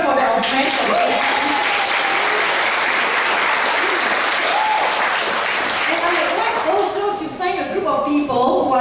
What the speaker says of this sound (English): So a big cheer for our friends from AD.